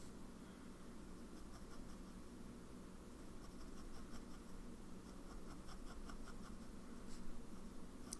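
A fountain pen nib drags across paper in faint, close scratchy strokes, a soft rhythmic rasp of writing over a low background hum.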